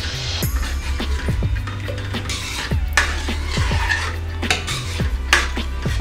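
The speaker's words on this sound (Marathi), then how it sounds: "मिक्स करून घ्यायचं आहे" A spoon stirs chole masala in a metal pot, giving repeated scraping clinks and knocks against the sides in an uneven rhythm, with a low hum underneath throughout.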